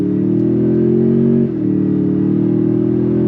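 A Toyota Tundra TRD Pro pickup with a 10-speed automatic pulls hard on throttle, its engine droning loud and steady, and a brief dip in the note partway through suggests a gear change.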